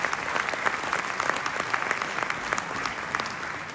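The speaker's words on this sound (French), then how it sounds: "ça mérite des applaudissements quand même" Spectators at the Enduropale du Touquet beach motorbike race applaud in a dense, lively clatter of many hands that carries on steadily for several seconds.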